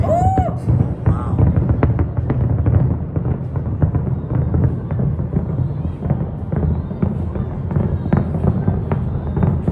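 A New Year's Eve fireworks finale over the Las Vegas Strip, fired from the top of the Strat tower, gives a dense, continuous barrage of booms and crackles with no gaps, heard from a crowd vantage point.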